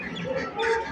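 Ducks and ducklings at a pond by a water temple, a brief burst of loud, close quacking and clucking calls.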